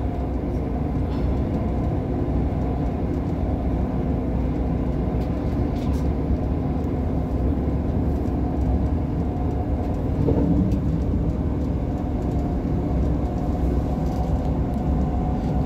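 Steady, loud rumble and hum inside a moving British passenger train, unit 158863, with continuous wheel and track noise and no speech.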